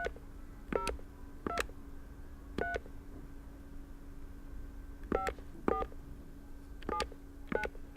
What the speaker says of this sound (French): Veuillez composer les 8 chiffres de votre identifiant.